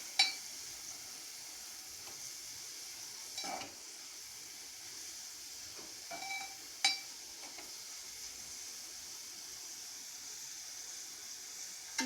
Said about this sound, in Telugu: ఇలా కలుపుకుంటూ పచ్చివాసన పోయేదాకా వేయించండి.